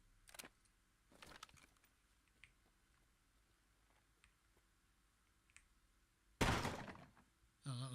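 Locked door being tried in Escape from Tarkov: a few dull rattling thunks against a quiet background, followed later by a louder burst of clattering noise.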